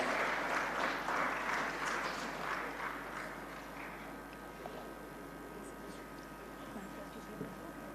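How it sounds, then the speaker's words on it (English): Audience applause at a South India media summit welcoming women leaders onto the stage, a dense burst of clapping that starts strong and slowly thins out as it fades. "with a nice big round of applause as we honor our speakers"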